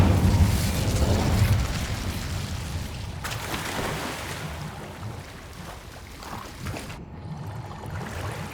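A fire spell blast in the Hogwarts Legacy video game erupts as a loud, low rumbling whoosh, followed by crackling, roaring flame noise that lingers and slowly fades.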